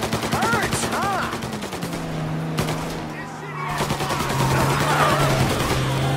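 Rapid bursts of gunfire from the Mafia video game crack over a sustained low tonal hum, with voices talking throughout.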